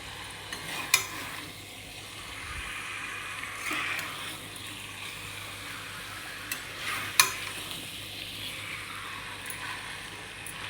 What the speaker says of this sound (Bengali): এবার এর মধ্যে আমি ভেজে রাখা আলুগুলো দিয়ে দেবো আলুগুলো দিয়ে একটু নাড়াচাড়া করে